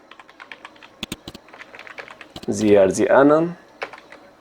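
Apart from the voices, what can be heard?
typing on a computer keyboard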